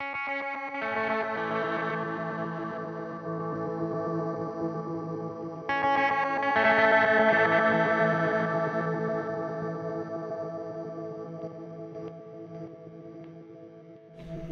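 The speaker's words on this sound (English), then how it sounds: "We could swell that in so that the effect, the granulized now, and the distortion swells in behind the clean signal." A clean guitar tone runs through a Meris LVX pedal set to a granular effect, sustained and shimmering, and a tube distortion swells in partway through, thickening and brightening the sound before it slowly fades.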